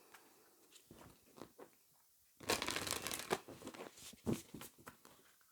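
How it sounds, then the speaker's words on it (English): Oracle cards being shuffled by hand, quiet close riffling and slapping in short bursts, with a louder continuous flurry midway and softer handling before and after; no talk. "I'll get you some oracle cards."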